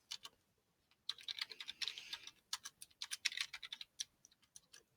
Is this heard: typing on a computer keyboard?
yes